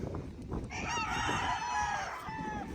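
A gamefowl bull stag rooster lets out one loud, drawn-out crow that rises and trails off, with other birds clucking faintly around it.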